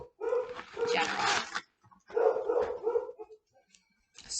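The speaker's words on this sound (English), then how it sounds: "Sorry if you can hear my dogs." Pet dogs in a home barking in two loud, close bursts of rapid yaps and yips, separated by a short pause, with a final bark starting at the end.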